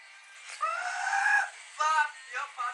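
A man screams in high, strained bursts while playing the Halo video game, with one long wavering cry followed by several shorter yelps.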